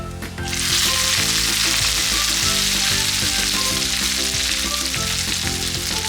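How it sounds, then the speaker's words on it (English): Fresh homemade pumpkin or ricotta tortellini dropping into browned butter with sage, a loud, close, continuous sizzle that bursts in after a brief quiet start and stays dense and intense to the end. "the butter is getting brown now in the other pan, so I'm going to transfer the tortellini"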